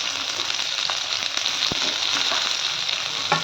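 Onion and capsicum frying in a few spoons of hot oil, a dense, even sizzle with faint crackles and one brief knock, close by and with no talk.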